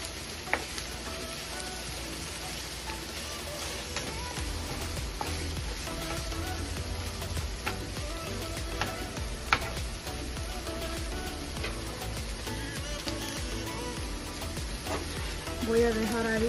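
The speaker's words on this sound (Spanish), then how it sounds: "Y hay que mover para revolver." Green chile with red chile frying in a pan, a continuous close sizzle with scraping stirs and occasional clicks of the utensil throughout.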